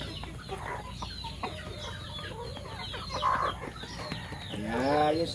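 Hens cluck around a Philippine farm coop with a rooster crowing nearby, a busy mix of close clucks and calls rising louder toward the end, with faint voices in the background.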